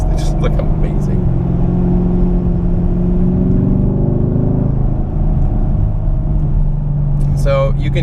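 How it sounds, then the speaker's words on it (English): Cabin noise inside a moving car fills the clip with a constant low drone and engine hum that rises and falls in pitch as the driver accelerates, with brief speech-like sounds near the start and end. "So you can hear, obviously, the interior of the car."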